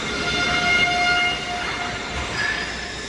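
A train rolls along railway tracks at night, a loud, steady rumble of wheels and carriages with a drawn-out horn tone sounding above the noise.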